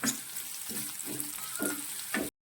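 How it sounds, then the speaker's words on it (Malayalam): Chopped ginger and garlic sizzle in hot oil in a pan, with a steady frying hiss. A spoon stirs through them in a few short scraping passes, close by, with no voices. "ഒരു ചെറിയ കഷ്ണം ഇഞ്ചിയും അതുപോലെ തന്നെ രണ്ടല്ലി വെളുത്തുള്ളിയും കൂടി ഇട്ട് കൊടുക്കാം നന്നായിട്ടൊന്ന് വഴറ്റണം"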